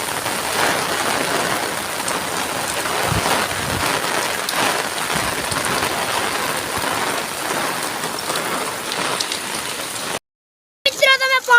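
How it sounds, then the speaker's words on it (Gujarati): Heavy rain pours down steadily for about ten seconds, a dense close hiss of drops on surfaces, followed by a brief silence and a short burst of talking. "એટલો વરસાદ આવી ગયો."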